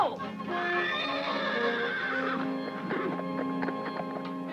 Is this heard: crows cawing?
no